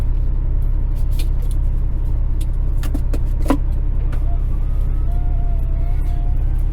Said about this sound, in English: Let's go truck driving.